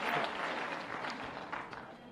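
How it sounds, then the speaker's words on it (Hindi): Audience applause at a youth dialogue event in Bhopal, a dense, steady wash of many hands clapping at once, fairly distant and quiet, heard on its own without speech. "तो जोरदार ताली बजाओ इस बात के लिए।"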